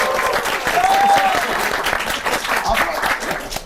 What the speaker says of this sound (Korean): 박수 소리로 한번 구해보겠습니다